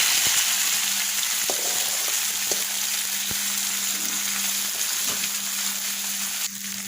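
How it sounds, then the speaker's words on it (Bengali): Boiled red amaranth greens frying in a pan of oil with onion and garlic give a steady, close sizzle with a few sharp clicks of stirring, no voices. "প্যানে তেল দিয়ে দিয়েছি, আর পেঁয়াজ ভেজে নিয়েছি, পেঁয়াজ রসুন। এবার সিদ্ধ করা শাকগুলো দিয়ে দিলাম"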